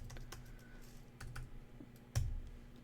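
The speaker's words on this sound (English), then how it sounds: "I'm going to type it in the chat just in case anybody wants to grab it." Soft, scattered keystrokes on a computer keyboard typing into a chat, irregular clicks at close range with one firmer tap, quiet over faint room hum.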